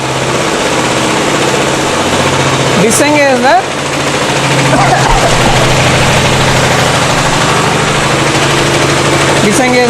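An air-cooled single-cylinder diesel engine on a test rig runs steadily with a rough, continuous mechanical drone and vibration. A few brief whining tones rise over it.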